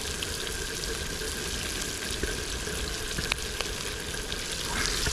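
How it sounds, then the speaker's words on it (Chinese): Dried chili peppers fry in hot oil in a wok with leftover chilies and scallion, ginger and garlic, giving a steady dense sizzle with faint scraping, close and fairly loud throughout. "再来点干辣椒给它增一下香。"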